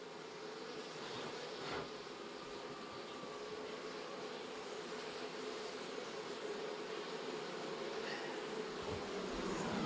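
Mountain honey bees swarm around their hive in the hills of an Uttarakhand village, producing a steady, dense buzzing drone that holds for the whole stretch without a break.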